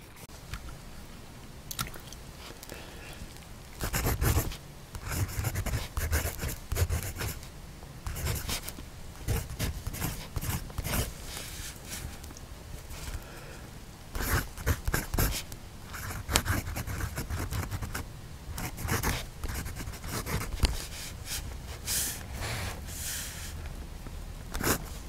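A PenBBS 480 fountain pen, held unposted, scratches across paper in long stretches of writing, soft nib strokes and scrapes coming in irregular bursts with short pauses, close and fairly quiet, no talking.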